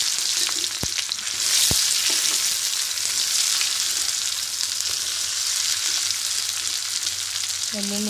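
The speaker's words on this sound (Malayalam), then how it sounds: "വെള്ളുള്ളി വെച്ചിട്ട് നല്ലോണം വഴറ്റണം കേട്ടോ." Onion and garlic sauté in hot coconut oil with mustard seeds as the base for a Malabar-style egg roast. A loud, continuous sizzle is heard, with a couple of sharp spatula taps early on.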